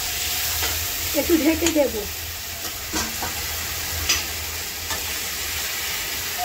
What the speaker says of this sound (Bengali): লাল লাল করে কষতে থাকি।